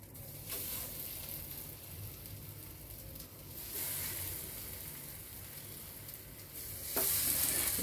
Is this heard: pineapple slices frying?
yes